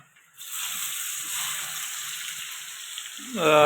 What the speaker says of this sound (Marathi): तेलामध्ये कांदा टाकला आपण व्यवस्थितरित्या आता ढळून घ्यायचा